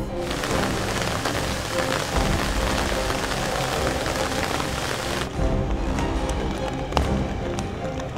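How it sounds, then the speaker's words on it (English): Steady rain pours down under a heavy cloud bank, a dense continuous hiss of drops on surfaces from start to finish, with a sharper patter change partway through and an occasional louder tap. "it started to rain."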